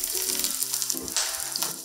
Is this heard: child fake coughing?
no